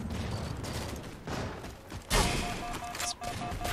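Gunfire rings out during a competitive shooter match on a map called Complex Extraction, a few sharp cracks standing out over a busy, continuous background of game noise.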